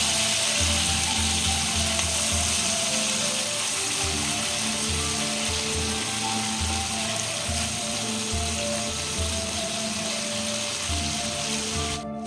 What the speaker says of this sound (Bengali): বেশি কড়া করে ভাজবো না, চিংড়ি মাছ কড়া করে কখনো ভাজবে নেই।